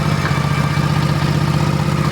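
A motorcycle engine idles steadily up close, a low even rumble with faint irregular stumbles, the bike misfiring and coughing from the exhaust after a service.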